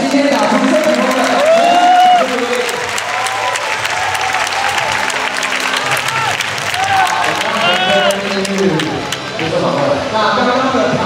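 A baseball stadium crowd in Taiwan applauds and cheers for the game's MVP at a Fubon Guardians event, steady loud clapping and crowd noise with amplified voices and music tones mixed in throughout.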